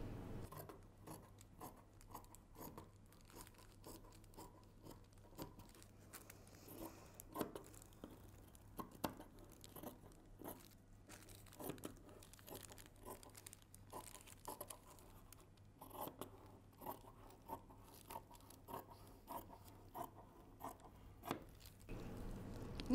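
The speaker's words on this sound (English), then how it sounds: "I'm cutting the upper detail at the back." Scissors cut through fabric with cutwork embroidery for a dress, making a soft, quiet series of snips and rasping strokes in an irregular rhythm, close by, with no talk.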